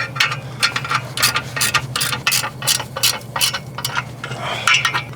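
A hand ratchet clicks in quick bursts while tightening bolts on a Squarebody Chevy C10 truck, with a steady run of close, sharp pawl clicks and short pauses between strokes.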